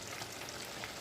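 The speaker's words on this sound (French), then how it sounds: "Nos pâtes, elles sont en train de cuire." Pasta cooking in a pot for pasta with tuna in tomato sauce, a steady faint sizzling and bubbling hiss that holds evenly throughout.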